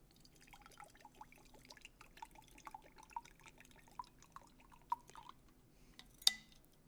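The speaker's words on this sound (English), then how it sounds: "let me pour some coffee before" Coffee is poured into a cup, a quiet trickle with small dripping plinks that ends in one sharper splash, heard close and alone.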